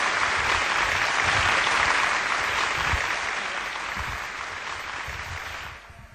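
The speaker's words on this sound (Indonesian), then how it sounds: "Kasih tepuk tangan dong biar semangat ini" An audience at a closing session of a family church retreat claps together for several seconds, a full, even wash of applause that thins and fades out toward the end.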